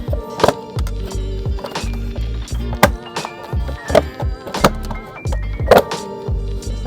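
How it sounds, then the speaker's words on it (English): Stock Tesla aero wheel covers being pried off by hand, with a series of loud sharp plastic pops and knocks at irregular intervals, close up, with no talking. "we have the aero wheel cover that comes stock, like I said. Just pop them off."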